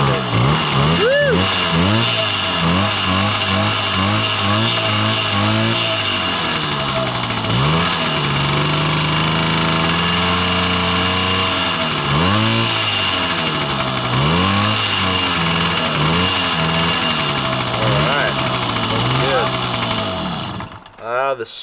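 A Honda MR50 kids' dirt bike engine, cold-started on choke on a 40-degree day, runs and revs in rising and falling waves for about twenty seconds, loud and close, before cutting off.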